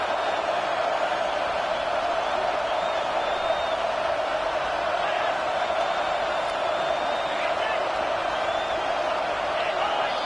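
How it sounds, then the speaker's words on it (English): A home stadium crowd roars loudly during an American football game at fourth and fifteen, a dense and steady wall of noise with occasional whoops, and commentary running over it. "with this place rocking, the crowd forces a false start"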